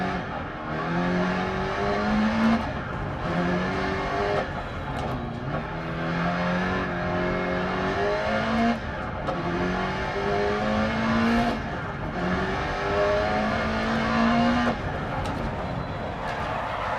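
A mid-engine rally car in DiRT Rally climbs Pikes Peak, its engine revving up repeatedly through the gears with rising whines and brief drops at each shift, loud and close throughout.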